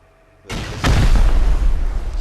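Rocket explosion during a raid in the Rust video game, a sudden loud boom after silence, then a second heavy blast and a long rumbling roar that stays strong to the end.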